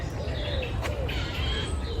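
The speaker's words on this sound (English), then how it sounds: "I'm not sure what bird that is, if it's a bird." An unusual bird call at dusk, rendered as faint high whistling notes and chirps above steady low background rumble outdoors, repeating through the moment.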